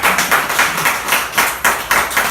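Rhythmic clapping rises from a church congregation, a series of evenly spaced, fairly loud bursts of many hands clapping together in a steady beat.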